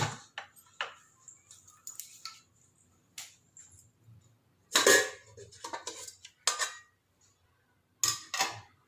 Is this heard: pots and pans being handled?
yes